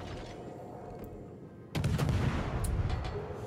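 Naval guns of the cruiser USS San Diego fire in World of Warships: a muffled distant thud, then a sharp nearby salvo blast around the middle, followed by sustained rumbling roar and a few scattered shots.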